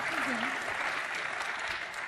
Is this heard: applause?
yes